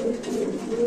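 A Lahori pigeon at a pigeon market cooing close by, a low steady throaty coo sustained under faint background noise.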